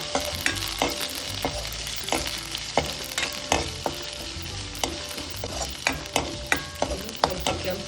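Crushed garlic and cut green chillies frying in a pan, a continuous oily sizzle broken by frequent rhythmic scrapes and taps of a spatula stirring against the pan, close and steady throughout.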